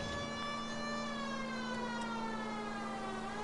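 A police car siren in a video game wails in long, smooth rising and falling sweeps, a clear and steady tone heard alone without talk.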